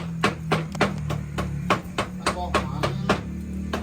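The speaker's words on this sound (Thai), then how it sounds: "เอาเวลาถ่ายคลิปมาซอยหอม" A knife slices shallots on a board for duck larb with a steady run of about a dozen sharp, close chopping thuds, evenly paced, over a low background hum.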